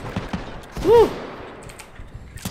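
Gunfire in the video game Titanfall 2 comes as a loud burst of rapid shots, with scattered sharper impacts and a brief swooping electronic effect in the middle. A few further shots crack near the end.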